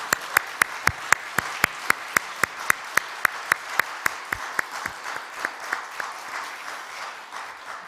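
Steady, evenly spaced clapping at a late-night Friday church worship service, a rhythmic beat of sharp claps that carries on and gradually softens.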